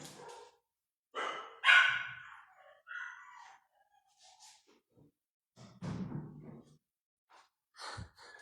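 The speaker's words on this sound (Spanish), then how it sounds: "Pasó un perro con la gata del lado." A dog barks at home in short separate bursts, close and moderately loud, mixed with breathy gasps and a sharp yelp near the end, with quiet gaps between.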